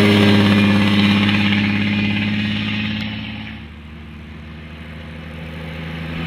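A Mercedes-Benz Typ 680S sports car with a supercharged six-cylinder engine idles with a deep, loud, steady burble, then the tone drops lower and settles into a quieter rumble near the end.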